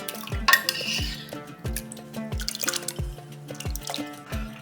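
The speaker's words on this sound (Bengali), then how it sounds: "এরপরে আমি দিয়ে দিচ্ছি ভিজিয়ে রাখা মুগ ডাল।" Soaked moong dal goes into a pot of salted water with turmeric for vegetarian khichuri, producing a run of close, evenly spaced wet plops and clinks against the pot, with some splashing and no talk.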